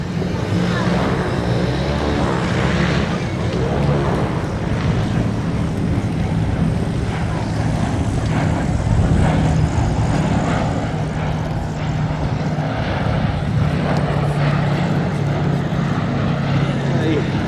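A B-17G Flying Fortress propeller bomber at an air festival at Duxford, its piston engines giving a steady, loud, low droning roar that holds throughout with wind noise on the microphone.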